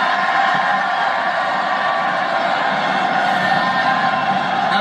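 A stadium crowd roars and cheers steadily after India's cricket win over Pakistan, a dense, continuous wash of voices with no break.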